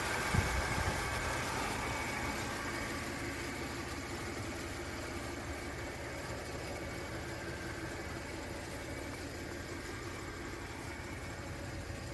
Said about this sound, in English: That's a good motor.